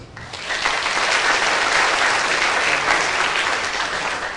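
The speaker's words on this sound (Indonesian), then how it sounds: "Tepuk tangan dulu" Audience at a Buddhist dharma talk on success in dharma and career breaks into applause, a dense, steady wash of many hands clapping that swells quickly and holds at full strength before easing slightly, with no talk over it.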